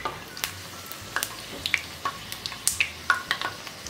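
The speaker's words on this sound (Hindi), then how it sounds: "दोनों साइड अच्छी तरह से फ्राई कर लूंगी।" Puri frying in hot oil, a soft continuous sizzle scattered with sharp little crackles and pops at an uneven rhythm, close and without talk.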